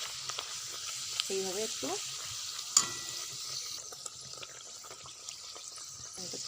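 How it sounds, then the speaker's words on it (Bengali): Luchi puffing up as they deep-fry one by one in hot oil give a steady, soft sizzling hiss, with someone speaking briefly over it and a light clink. "এইভাবে সব লুচিগুলো আমি ভেজে নেব এক এক করে।"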